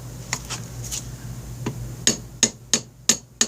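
A hand tool strikes a nut on the clutch of a Honda Rebel 250: a few light, uneven taps, then five sharp, evenly spaced metallic knocks close by, with no talking.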